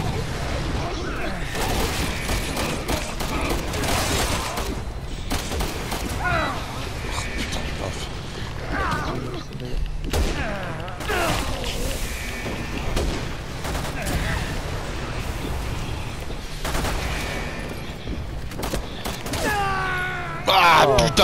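Heavy gunfire from a Resident Evil 6 sniper battle cracks and booms repeatedly throughout, with scattered shots and game effects, while a player talks over much of the action.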